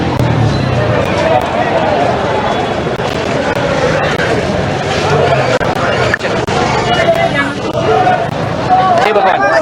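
A crowded street in Old Delhi, India, bustles with the steady hubbub of many people walking and chattering. Scattered clatter and distant traffic sit underneath, and a nearby voice talks over the din.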